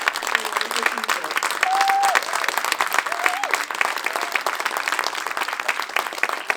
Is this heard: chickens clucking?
no